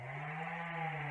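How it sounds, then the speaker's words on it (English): A chainsaw drones steadily in the background, a continuous buzzing whine cutting cherry wood at a distance. "He's back there cutting up some cherry wood we got back there."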